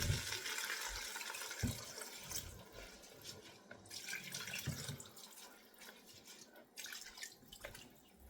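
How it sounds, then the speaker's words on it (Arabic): Rice-soaking water is poured from cups for mandi, a sequence of faint splashing pours and drips into a pot, with short pauses between each cupful. "هلا انا هون عندي فضيت 4 كاسات ونص مي من نفس الكاسة اللي نقعت فيها الرز."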